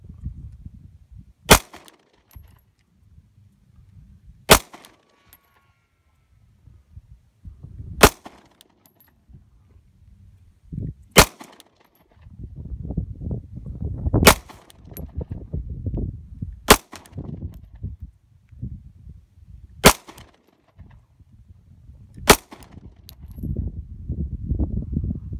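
Gunshots from an SKS rifle and pistols, a Ruger SP101 revolver and HK USP .40, at an outdoor shooting range: sharp, loud single cracks spaced several seconds apart, with rustling and movement between shots.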